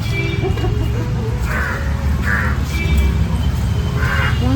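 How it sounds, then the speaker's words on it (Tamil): A jungle crow gives three harsh, nasal caws spaced about a second apart, fairly close, over a steady low background rumble. "அதாவது அண்டங்காக்கா"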